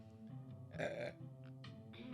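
A single sneeze with a short voiced burst in the middle, set against a quiet background with faint tonal sounds.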